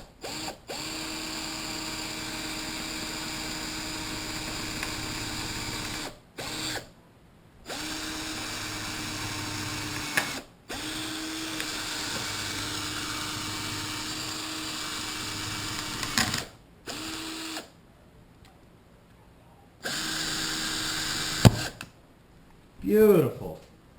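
A power drill bores through a metal AR15 part from Mossberg, a steady close whine that runs in long stretches, stops and restarts several times, with brief quiet gaps and a sharp clack near the end.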